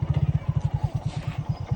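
A motorcycle being turned around on a village road in Assam, its engine idling with a rapid, regular low thumping pulse throughout, close and fairly loud.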